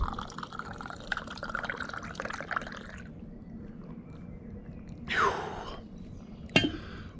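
A container is filled with water in a home gym setting, a soft trickling pour for a few seconds followed by quieter moments, a brief splash and a sharp knock, fairly faint and close.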